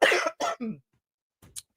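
A person coughs three times in quick succession, loud and close, followed after a pause by a softer throat-clearing sound.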